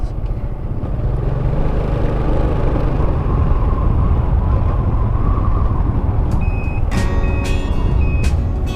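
Trucks idling and rumbling in a loud, steady low roar, with a sharp high reversing beep starting near the end and repeating in quick, evenly spaced pulses.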